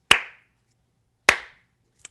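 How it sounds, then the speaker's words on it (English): Two sharp, single hand claps about a second apart, close and crisp against silence, followed by a faint small tap at the end. "clapping your hands,"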